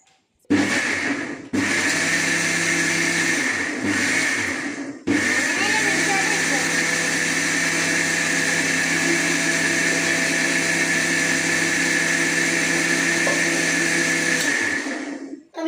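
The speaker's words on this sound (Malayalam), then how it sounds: "ഇനി നമുക്ക് മിക്സി വെച്ച് അരച്ചെടുക്കണം." A mixer grinder blends banana with sugar into juice, whirring loud and steady in three runs: a brief pulse, another short burst, then a long continuous grind before it cuts off.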